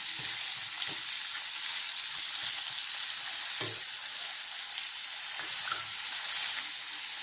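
Chopped radish sautés in a pan, a steady close hiss of frying with occasional soft stirring scrapes, continuous and fairly loud, with no voices.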